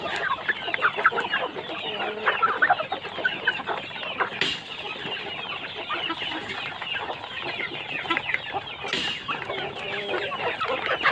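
Village chickens at a farm cluck and chatter in a dense, continuous chorus, with a couple of sharper calls standing out, at moderate volume with no talking.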